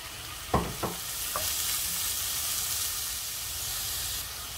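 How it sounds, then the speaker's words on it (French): Shrimp dropped into hot oil in a pan set off a loud, steady sizzle, with a few knocks of the pan or utensil at the start, close and continuous throughout. "Je vais mettre un filet d'huile et je vais rajouter mes crevettes."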